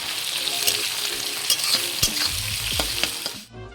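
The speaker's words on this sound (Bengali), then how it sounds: "সেই পেঁয়াজ কুচিয়ে দিয়ে দেবো, ভেজে নেবো ভালো করে" Chopped onions fry in hot oil in a wok, a loud close sizzle with stirring scrapes throughout, cutting off abruptly at the end.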